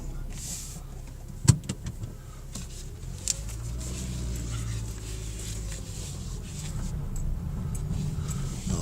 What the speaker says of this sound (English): Before I go anywhere at all, let's put the windows down.